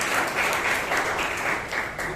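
Continuous crowd clapping fills a Toastmasters meeting, a loud, even patter from many audience members that carries steadily for a couple of seconds before dipping at the close.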